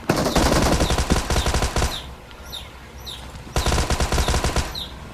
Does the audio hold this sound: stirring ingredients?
no